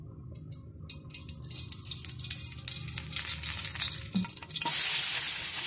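Fish sautéing in a frying pan for a home-cooked dish, a steady sizzle and crackle with occasional stirring clicks, building to a loud bright hiss near the end as something is added to the hot pan.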